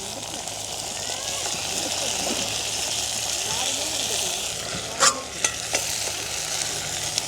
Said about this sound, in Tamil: அதோட வெட்டி வச்சிருக்கிற வெங்காயம் செத்தல் மிளகாய் கருவேப்பந்தலையும் போட்டுக்கொள்வோம்